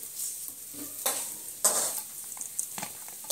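Makhana being roasted in ghee in a pan, with a soft steady sizzle, intermittent stirring scrapes and a few sharper clicks from the utensil against the pan, all close and moderately quiet with no talking.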